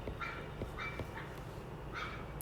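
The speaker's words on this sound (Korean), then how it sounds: "강아지가 되게 앙칼지게 짖는다." A puppy barks sharply somewhere in the distance, four or five quick, shrill yaps spaced across a couple of seconds, faint against a quiet room hum.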